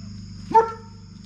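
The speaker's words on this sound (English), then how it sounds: "that red dog has been barking too" A single short, sharp dog bark rings out close by against a quiet background hum.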